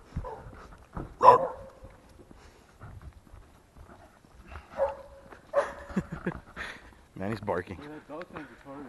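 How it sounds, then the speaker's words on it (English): A dog barks outdoors by a lakeside cabin while gear is packed and a boat is readied, a few sharp barks standing out over people talking, with footsteps and handling noise around. "Barking."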